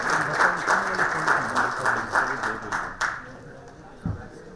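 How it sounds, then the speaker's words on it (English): An audience at a knowledge session in Uttar Pradesh applauds with dense, steady clapping that fades out after about three seconds, ending with a soft thump. "A huge round of applause for Mr."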